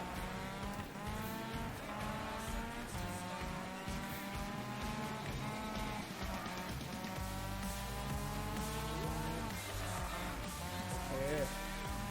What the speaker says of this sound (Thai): เสียงรถเสียงอะไรที่ถือว่าโอเคเลยนะ เพราะว่าอันมาจากรถจริงนะครับผม